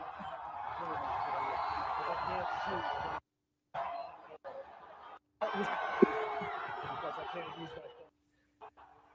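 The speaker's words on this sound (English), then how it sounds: "what you're hearing right now is this entire roar of the crowd" Seattle Seahawks parade crowd cheering, a broad sustained roar of many voices with laughter and chatter mixed in, loud for several seconds, broken by brief dropouts before the din resumes and fades near the end.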